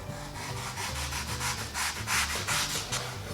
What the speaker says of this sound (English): you wouldn't even think you'd cut through a sponge like that